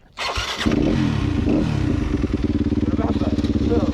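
A 125 dirt bike engine on sugar cane trails starts up and revs loudly nearby, with a throaty, pulsing buzz that holds steady and then turns to rapid choppy throttle blips, with voices over it.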